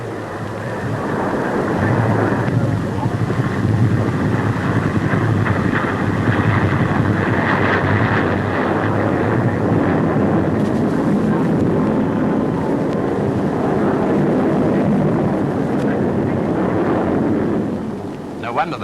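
English Electric Canberra jet trainer flying a spectacular manoeuvring display at the Farnborough air show in the 1950s, a loud, continuous roaring rumble that swells and holds steady for most of the stretch before fading at the end.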